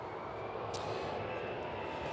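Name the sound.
airplane flying overhead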